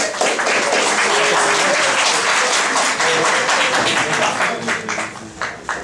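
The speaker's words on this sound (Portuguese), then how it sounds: "Uma salva de palmas." A crowd at a sustainability lecture applauds loudly and continuously, with cheering voices mixed in, the clapping thinning out toward the end.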